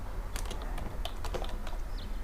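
Text is typed on a computer keyboard during Photoshop design work, a steady patter of close, moderately loud key clicks over a low background hum.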